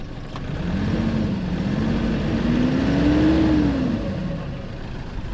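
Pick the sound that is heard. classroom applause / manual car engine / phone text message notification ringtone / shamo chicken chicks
manual car engine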